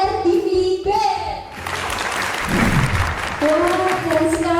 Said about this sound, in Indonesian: Beri tepuk tangannya yang meriah dong